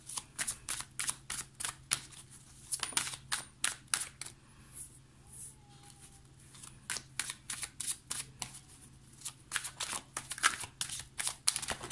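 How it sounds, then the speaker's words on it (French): Tarot cards are shuffled and drawn in a quiet room, with repeated crisp riffling slaps and flicks in irregular bursts, close and fairly soft, with a short pause midway. "Je vais prendre 3 cartes."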